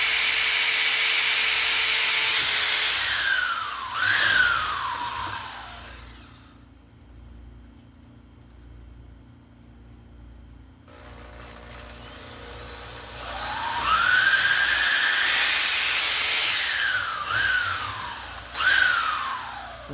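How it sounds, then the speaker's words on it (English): A drill bores holes in a form for a silicone mold, with a loud, close, high-pitched whine that rises and falls as the bit bites and eases off. It pauses mid-way, then drills again, with no talking. "I get all these holes drilled"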